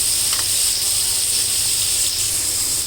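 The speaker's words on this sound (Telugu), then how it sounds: "ఇవి కాస్త సిమ్లో పెడితే నెమ్మదిగా వేగుతాయి" Broccoli with red, green and yellow capsicum and a little ginger-garlic paste frying slowly in a pan on low heat, giving a steady, close, continuous sizzling hiss with no talking.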